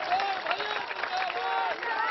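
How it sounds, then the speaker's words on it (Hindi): Audience at a political rally clapping, a dense continuous wash of applause from a crowd, steady and fairly loud, with voices mixed in. "अब बजाओ ताली।"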